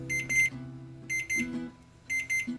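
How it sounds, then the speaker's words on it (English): A kitchen timer goes off during cooking of a spice-rubbed pork roast, giving three clear bursts of rapid, shrill electronic beeping with short pauses between them, close and alone without talk. "my timer just went off"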